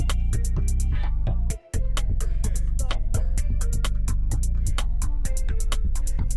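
A bass line in Studio One 7, set to bass mode, thumps out steady root notes beneath a full, loud music arrangement, with one brief dropout partway through.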